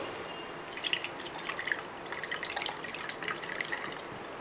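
Soaked tamarind water strained through a sieve, trickling and dripping steadily into a container for ginger curry. Quiet, close and continuous, with a few brighter splashes and no voices.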